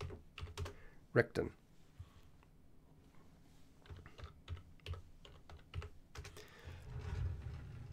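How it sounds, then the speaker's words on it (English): Quiet bursts of clicking keystrokes come from typing on a computer keyboard, irregular and fairly close, with a brief spoken word mixed in. "Let me just type it in here."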